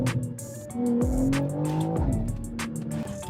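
A tuned turbocharged car running on full E85 with stock internals and stock turbo, roaring loudly up close as it accelerates hard, the engine note rising through the gears with brief tyre squeal and no talk.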